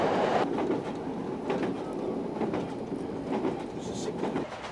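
Train running on the Colne to Skipton railway line, heard from on board as a steady rumble with rhythmic clickety-clack of wheels over the rails, with a faint voice in the background.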